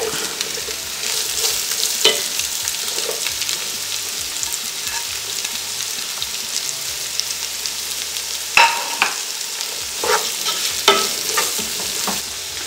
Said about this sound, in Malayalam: ഇനി നമുക്ക് സവാള, അരിഞ്ഞു വെച്ച സവാള